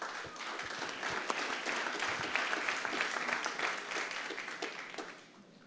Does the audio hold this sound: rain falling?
no